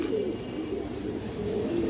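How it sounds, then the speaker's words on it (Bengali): Pigeons in a loft, among them a boot-beaked female of an old Muslodom breed, give steady, continuous low cooing close by, with no talk over it. "বুটঠোঁটের মাদি কবুতর আছে মাশাআল্লাহ"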